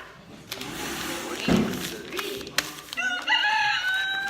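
A man imitates a rooster's crow with his voice, one rising, wavering call near the end following a few short vocal noises and a thump.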